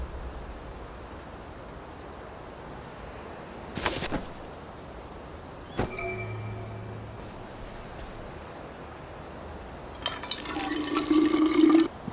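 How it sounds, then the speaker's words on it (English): A canteen being filled from a water pump in the video game We Happy Few: scattered splashes and clinks, then a longer, louder pour of water near the end. There is no talking. "I ought to fill up a canteen or two"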